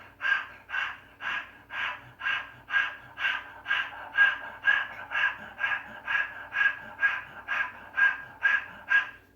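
Rhythmic breathwork breathing, about twenty quick forceful breaths in an even, steady cycle, close and clear against a quiet background.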